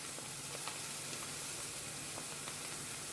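Ginger garlic paste sizzles steadily in hot oil with fried onions for pav bhaji, a constant close hiss with faint scattered pops.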